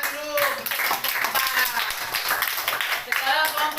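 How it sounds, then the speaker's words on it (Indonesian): A classroom of pupils claps hands together in a dense, continuous burst, with children's voices mixed in under the clapping. "Ya, tepuk tangan dulu."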